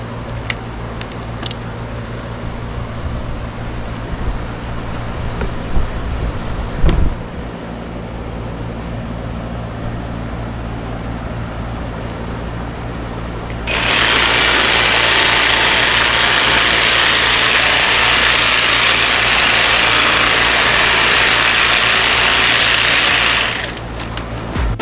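A Milwaukee cordless hedge trimmer on overgrown shrubs runs in its fast mode. A loud, steady high whirring drone starts partway through and holds for about ten seconds, after quieter handling noise.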